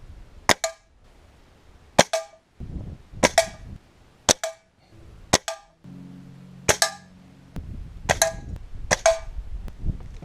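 Air rifle shots from a Weihrauch HW 97 or Air Arms Khamsin crack out one at a time, eight sharp close reports spaced a second or so apart with quiet gaps between.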